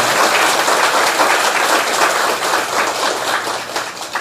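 Sustained audience applause fills the space at a lecture on parenting, a dense, steady wash of many hands clapping together without pause, loud and even throughout.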